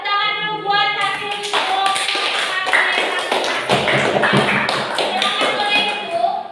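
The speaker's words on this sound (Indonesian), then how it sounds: "tepuk tangan dulu buat hasil" A classroom of students claps for classmates' answers, a dense, steady patter of many hands at close range, with a voice speaking over the applause.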